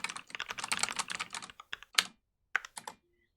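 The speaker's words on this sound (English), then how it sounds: "my keyboard isn't silent" A clacky computer keyboard typed on quickly, with close, bright key clicks in a rapid run that thins into a few separate taps and short bursts before falling silent.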